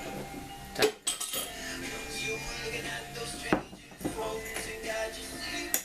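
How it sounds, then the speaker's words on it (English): A whisk scrapes and clinks against a pan as flour is stirred in for a leftover casserole, with repeated close metallic taps over a steady sizzling hiss. "you want to kind of whisk it in, and you want to cook this flour"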